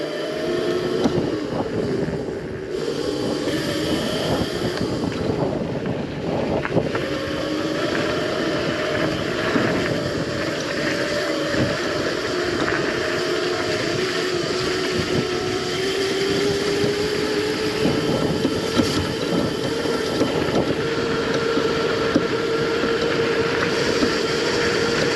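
An MX650 motorcycle rides along a dirt road, its engine droning steadily with slowly rising pitch, mixed with heavy wind buffeting and rumbling bumps, close and loud throughout.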